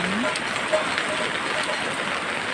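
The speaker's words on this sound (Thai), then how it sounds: "วันนี้ฝนตกค่ะ ท่ามกลางสายฝน" Rain falls steadily around a rural house, a continuous soft hiss of drops on surfaces with no breaks, heard close and even throughout.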